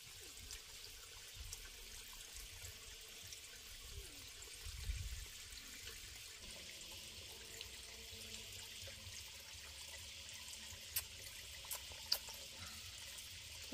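A stream flows in a soft, steady wash of water, faint and distant, with a few small splashes and clicks rising near the end.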